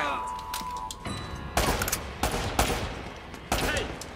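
Repeated bursts of gunfire in Uncharted: Drake's Fortune, loud and close, with several heavy volleys separated by brief gaps and a steady game ambience underneath.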